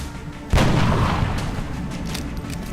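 A sniper rifle shot fires in the turn-based strategy game XCOM: Enemy Unknown: one loud, sharp report that rings out and decays into a lingering rumble over a couple of seconds.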